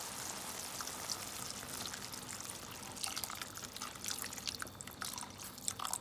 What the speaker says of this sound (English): Now I'm gonna add some water into the pan.